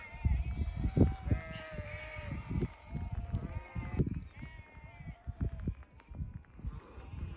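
A scattered flock of sheep bleats in snowy, foggy mountains, with repeated overlapping calls at moderate distance over soft background noise.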